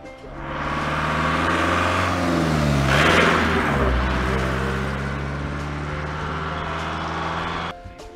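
Car engine started and revved hard for several seconds on a film set, a loud sustained roar with rising and falling pitch that cuts off near the end.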